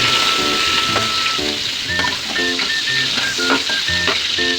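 Ginger fries in hot oil, a close, steady sizzle and hiss with scattered pops, while faint beeping tones sound in the background.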